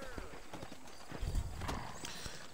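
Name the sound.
horse hooves in Red Dead Redemption video game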